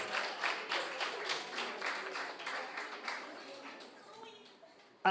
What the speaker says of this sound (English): let me get a strong round of applause for Team Jamaica Information Service.